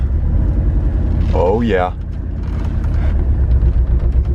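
A Porsche 944 engine rumbles low and steady as the car drives off, close and continuous beneath a brief excited voice.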